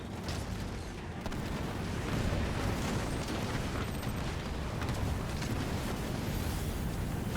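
Scorpion tanks fire in a Halo Wars 2 battle, a dense, continuous roar of heavy explosions and artillery booms with rumbling impacts layered over one another, loud and sustained throughout.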